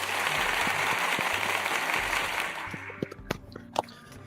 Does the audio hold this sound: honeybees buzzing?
no